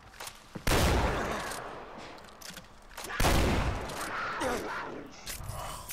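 Sniper rifle fire in Far Cry 4, with two loud, booming shots a few seconds apart, each followed by a long rumbling decay and lighter action noise.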